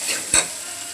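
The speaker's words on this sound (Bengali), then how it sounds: "মশলার সাথে আলু আর বেগুনগুলো একটু ভালোভাবে নাড়াচাড়া করে" Potatoes and eggplant stirred with spices in a pan sizzle softly, with one short scraping stroke of the spoon standing out near the middle.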